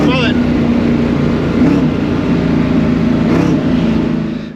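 A turbocharged street car with added boost, its engine droning loud and steady throughout with rising revs, close by, under people talking.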